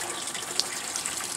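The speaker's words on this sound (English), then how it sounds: "it will get pumped back into here, which, you know, as you can see, this is where it pumps through" Pond water being pumped back into an above-ground pond tank, a quiet steady gushing flow with faint splashes, no voices.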